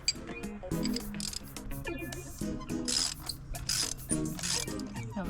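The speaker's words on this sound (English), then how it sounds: "she is using a 9/16 spark plug socket to take them out" Close ratchet clicking as a 9/16 spark plug socket on an extension loosens spark plugs in a Mazda CX-5, rapid pawl clicks in uneven bursts with small metallic clinks, no speech.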